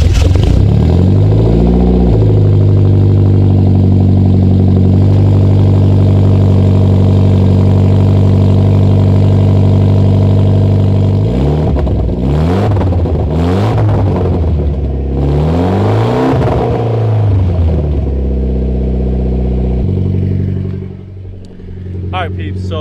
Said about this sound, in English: So get yourself a cold start.